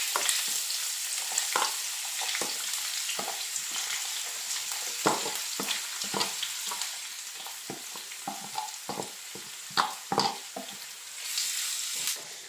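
Chopped onions fry for a prawn biryani, a steady hiss and sizzle broken by frequent sharp scrapes and taps of a spoon stirring the pan, close by and with no talking.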